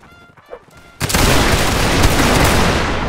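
A massed musket volley in a Napoleonic Wars video game, played with a line infantry regiment: a brief quiet, then a sudden loud, crackling burst of many shots that rolls on for about two seconds.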